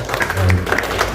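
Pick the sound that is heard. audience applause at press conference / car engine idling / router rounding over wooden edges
audience applause at press conference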